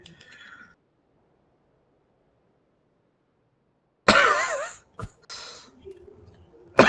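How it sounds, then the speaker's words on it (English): A harsh cough bursts out twice at close range after a long quiet stretch, followed by a brief throat-clearing sound and faint background noise. "I hate this cough."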